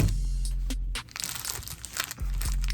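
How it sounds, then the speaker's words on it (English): Plastic packaging of two sticker packs being torn open, close crinkling and crunching with a short break in the middle before it resumes. "Opening this up. 2 packs of stickers"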